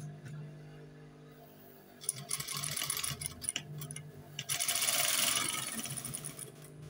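A sewing machine stitches a half elastic waistband on trousers with a quarter-inch seam. After a quiet start it runs in short, rapid bursts, then settles into a steady, close mechanical whir before easing off.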